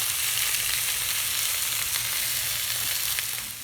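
A sausage fries in a pan with a steady, dense sizzle and crackle, close and even throughout, fading slightly at the end. No one speaks.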